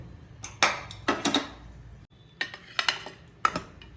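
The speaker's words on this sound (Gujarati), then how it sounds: "કુકર ખોલી લઈએ આપણે" A series of sharp metallic clanks and clinks as a pressure cooker lid is handled and lifted after the steam is released, close by with brief pauses between.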